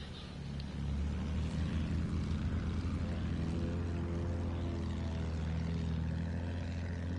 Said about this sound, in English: We got a plane.